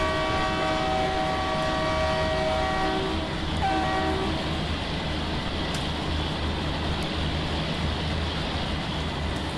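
The Maitree Express, an international train, is shunted at Kolkata toward platform 1. A sustained horn sounds for the first few seconds over a constant loud rumble of rolling wheels and engine noise.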